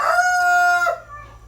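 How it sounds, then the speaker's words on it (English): A rooster crows once, loud and close, a long sustained call that cuts off abruptly, followed by quiet background. "Bloody cockerels."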